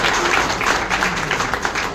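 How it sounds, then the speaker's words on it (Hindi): Audience applause at a retirement ceremony held at an ESI dispensary in Nandnagri, loud sustained clapping from a gathered crowd that swells and stays dense throughout. "जोरदार तालियां उनके लिए जिन्होंने हम सबको गौरवान्वित किया।"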